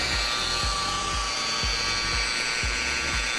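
A polishing machine buffs car paint to remove scratches, its motor whirring loudly and steadily up close, with a low rhythmic thump pulsing roughly once a second as the pad moves across the panel.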